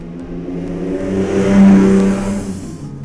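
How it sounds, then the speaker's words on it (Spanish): A motorcycle engine drones past outside, swelling to a loud peak mid-clip and then fading, with a steady humming pitch. "Ay, la moto."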